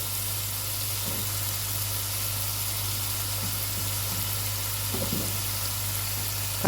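Curry leaves and tomato sizzle steadily in a pot of one-pot chicken biryani, a constant frying hiss with a low hum beneath and a few soft stirring clinks, no talking.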